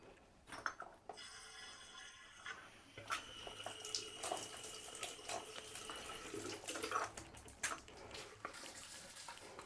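Water is poured or run from a tap into a container holding borax and washing soda powder, a faint splashing trickle with light clinks from a container or utensil, heard alone without talk.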